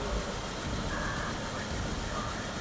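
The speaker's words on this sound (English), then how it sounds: "We're flying in a helicopter" A steady, dense drone of a helicopter in flight, from the video game Call of Duty: Black Ops, holds at an even loudness throughout with no pauses and no voices.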